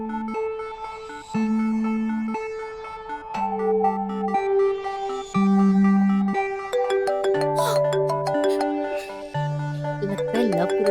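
A mobile phone plays a melodic ringtone for an incoming call, its bright electronic tune stepping through notes for about eleven seconds, loud and close, with a faint voice briefly underneath.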